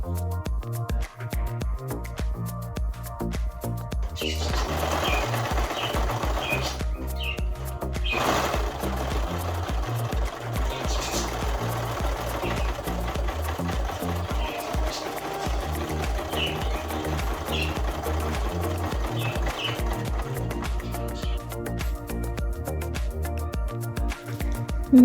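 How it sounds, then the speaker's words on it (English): A Brother 1034D serger overlocker runs continuously for a long stretch, pulling a knotted thread through its tail. Its fast, even mechanical whir and chatter stay close and loud throughout, with no voices. "I'm going to run the machine until the knot comes out the other side in the serger"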